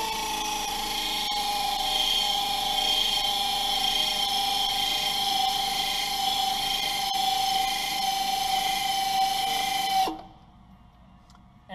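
Power tool buffing down a tire's inner surface for a flat repair: a steady high-pitched grinding whine with a rough rubbing texture runs continuously for about ten seconds, then cuts off abruptly, leaving quiet.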